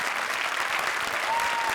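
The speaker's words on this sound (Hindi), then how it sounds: "जोरदार तालियां प्रिंस के लिए।" Studio audience applause on a Hindi comedy show, a brief, dense burst of steady clapping and crowd noise, fairly close and even throughout.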